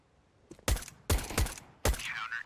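Gunfire in Counter-Strike on the Overpass map comes as three close, loud bursts of shots separated by short pauses.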